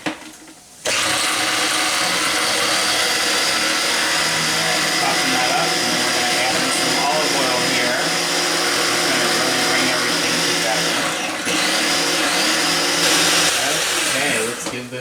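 A blender whirs loudly and steadily while pureeing pesto, starting abruptly after a brief quiet moment and running continuously with only slight dips in pitch.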